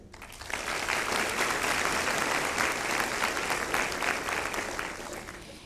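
A graduation ceremony audience applauds in a dense, even roar of clapping that swells in, holds steady for several seconds, then eases slightly, with no speech over it.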